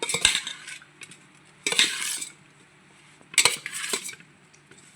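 A utensil stirs gobi manchurian in a pan, giving bursts of metallic scraping and clinking in three separate spells with quiet gaps between them. The sound is close and fairly loud, with no speech.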